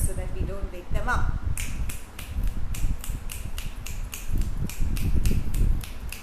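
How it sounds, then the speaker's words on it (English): Children at a storytelling session snap their fingers in a quick, steady series of crisp clicks, with young voices chattering and murmuring underneath. "Snap your fingers so that we don't wake them up."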